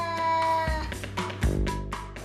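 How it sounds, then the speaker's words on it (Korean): A street-rescued cat raised by a grandmother confronts a stranger with a loud, close, drawn-out yowling growl in harmonic pulses that swell and rise in repeated waves. "으르렁거리면서 앞에서 위협하는 고양이"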